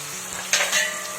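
Spices such as cumin, coriander and salt, with a fish spice mix, sizzle in a hot pan for a moment while a spoon scrapes and stirs them, close by and with no voice.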